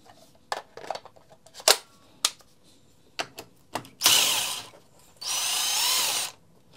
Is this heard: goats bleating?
no